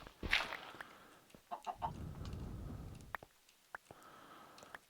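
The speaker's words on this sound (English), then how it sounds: "Hey, chicken. I know you've been stuck there a long time" A Minecraft chicken clucks several times in short bursts, mixed with soft game noises and scattered clicks, no talk.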